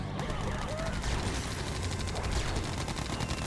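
Gatling cannons in Yuri's Revenge rattle in dense, continuous bursts at an incoming Kirov airship, loud rapid fire mixed with explosions and battle noise throughout.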